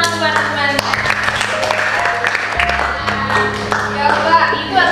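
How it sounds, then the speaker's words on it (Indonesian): A group of classroom students claps together in steady, scattered applause, fairly close, with voices and other room sounds running underneath. "oke, tepuk tangan teman-teman."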